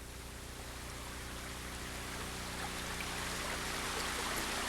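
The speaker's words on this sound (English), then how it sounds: "As you can see, I'm sitting in my private whirlpool" A private whirlpool tub filled with revitalized water gives a steady, dense rushing and bubbling of churning water, close and unbroken throughout.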